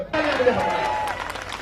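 Rally crowd applause at a Delhi election gathering, a short, fairly faint patter of clapping beneath a man's amplified speech.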